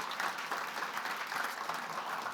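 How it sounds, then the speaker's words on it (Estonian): An audience at an Estonian evening talk on money sense gives a short, steady round of applause as a guest speaker receives a small gift, the clapping dense and even throughout. "nii et anname Nellile ka väikse aplausiga meene üle"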